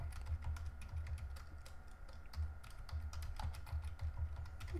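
Computer keyboard keys tapped in a quick, uneven run as a password is entered during network appliance setup, close and fairly loud, with a low hum underneath and no talking.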